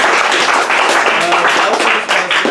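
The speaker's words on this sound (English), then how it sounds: "I'm going to do another big round of applause for all the readers." Audience at a writers' reading showcase giving a round of applause, dense clapping with some scattered louder claps, fairly close and sustained.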